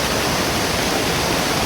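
Heavy rain falls near a river as a dense, even hiss that is loud, close and unbroken throughout.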